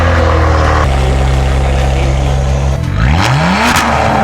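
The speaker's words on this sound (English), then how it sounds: "The car is fully straight pipe now." Straight-piped Kia Stinger exhaust revving hard and very loud, a sustained close drone that climbs sharply in pitch near the end as the engine is pushed up.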